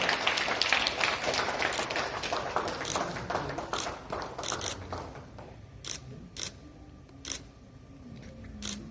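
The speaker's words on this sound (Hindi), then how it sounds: "जोरदार तालियां" Loud applause at an award ceremony, dense clapping at first that fades into scattered claps and a few sharp taps in a hall.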